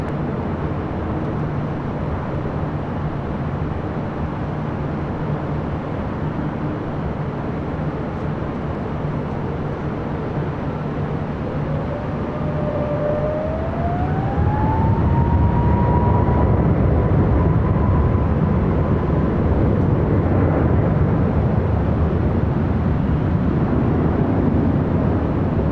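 An American Airlines airliner takes off from runway 24 left at LAX, a loud, continuous jet roar that swells and rises in pitch as the engines spool up, heard from a distance with no talking.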